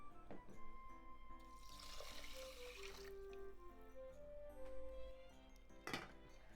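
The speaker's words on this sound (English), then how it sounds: "It's 2 cups of rice, so I'm adding 2 cups of water." Water pours steadily into a pot of rice, a soft continuous trickle beneath a faint tonal background hum.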